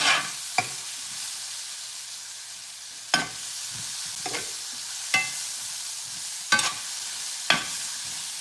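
Onions sautéing in a pan with a low continuous sizzle, broken by a few sharp clacks of a utensil against the pan spaced a second or two apart.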